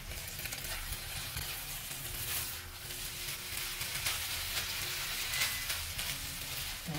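Spaghetti with broccoli being stirred in a pan, giving a steady close sizzle and frying hiss with soft scraping and clatter running throughout, no voices.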